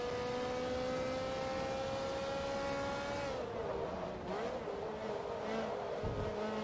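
A Ferrari F430 Challenge engine in the Forza Motorsport 2 racing game holds a steady high drone, then drops and wavers through gear shifts and braking, loud and close with no voices.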